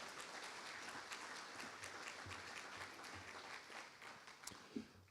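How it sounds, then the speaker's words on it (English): A high school football awards banquet crowd gives a round of applause for the dinner hosts. Soft, distant and steady clapping continues throughout, with a few louder claps near the end. "So how about a nice round of applause for our hosts this"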